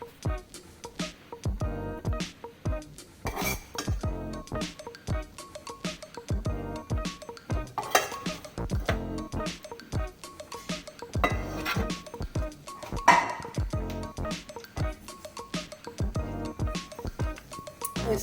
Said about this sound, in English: Empty the rice to the pan with oil.